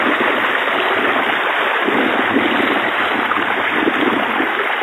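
Floodwater rushing over a flooded bridge on a bypass road, a loud, constant roaring wash of moving water, close and unbroken.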